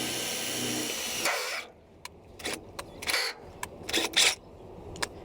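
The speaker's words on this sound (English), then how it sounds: "then we can start drilling it on an angle down like that" A power drill bores an angled hole in metal on a boat, whirring steadily up close before cutting out, followed by a series of short sharp bursts of drilling and clicks.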